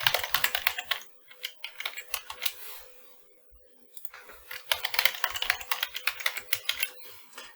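Bursts of quick, crisp keystrokes on a computer keyboard as a password is typed, close and clear, with a pause in the middle before another fast run of clicking.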